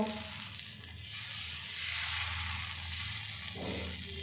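A ladle of flour and apple batter poured into a hot pan and swirled thin, a loud hissing sizzle that swells and holds steadily.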